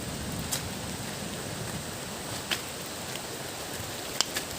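Steady rain on a trip near the Meghalaya border makes a dense, even hiss, broken by a few sharp drip-like taps, with no voices.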